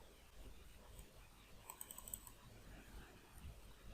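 Quiet keyboard typing while building a WordPress site, with a run of soft, closely spaced key clicks heard alone and fairly near.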